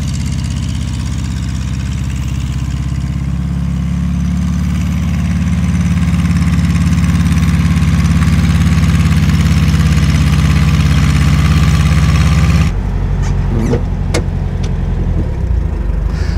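A 1943 Volkswagen KdF Typ 87 four-wheel-drive Beetle Kommandeurswagen engine runs steadily at close range with a low, loud drone, then, with an off-road gear engaged, cuts abruptly to a rougher idle broken by clunks and knocks.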